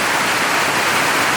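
Pouring rain roars in a dense, unbroken wash of noise, loud and close, with no pauses and no voices.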